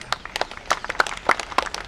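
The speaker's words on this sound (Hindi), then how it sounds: "तो सबसे पहले अपने आप के लिए तालियां बजा लो" A protest crowd claps for itself outdoors: a brief burst of scattered, uneven hand claps of moderate loudness that keeps up for a moment without settling into a shared rhythm.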